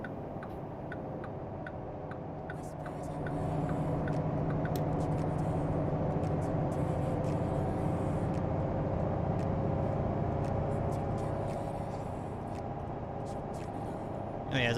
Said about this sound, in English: Sound of this truck, man, it's so nice.